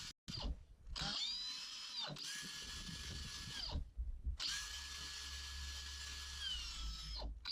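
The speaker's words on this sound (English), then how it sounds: "Have a nice little small drill." A small electric drill bores a hole for a solar battery isolator install, whining steadily in two long, close bursts with a brief pause between, spinning up and winding down each time.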